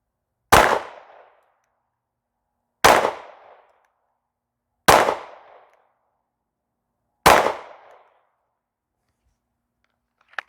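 Springfield Armory Echelon 4.0C pistol fired five times outdoors on a range, four loud sharp reports about two seconds apart, each with a short decaying echo, then a faint clipped tap at the end.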